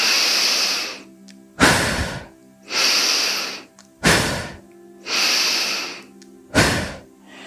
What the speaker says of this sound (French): 3 respirations toniques.